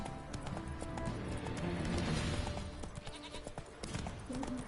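Horse hooves clip-clop in The Witcher 3, a quick rhythmic patter of hoofbeats over a busy bed of game ambience.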